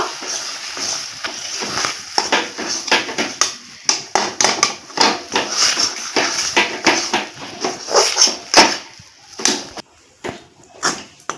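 Rice flour dough is stirred in a pan for a potato-stuffed pitha, giving close, irregular knocks, taps and scrapes that repeat quickly in an uneven rhythm.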